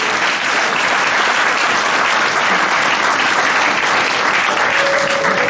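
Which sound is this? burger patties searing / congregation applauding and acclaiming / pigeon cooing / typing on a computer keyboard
congregation applauding and acclaiming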